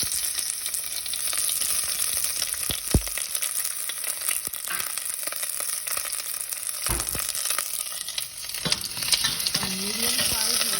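Diced yellow onion sizzles steadily in hot vegetable oil over medium-high heat, a dense continuous frying hiss with a few sharp utensil knocks as it is stirred, close and alone without talk.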